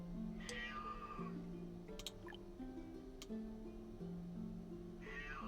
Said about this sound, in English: I can hear my cats yelling at me.